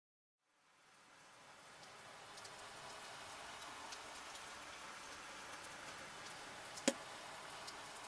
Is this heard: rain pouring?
yes